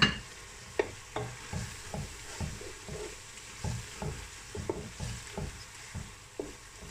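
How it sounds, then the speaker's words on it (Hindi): Masala with garam masala and biryani spice being fried and stirred in a pot for chicken biryani, with repeated scraping stirs in an irregular rhythm over a steady low sizzle, close by and with no talking. "5 मिनट असी अदा मसाला भुनना है"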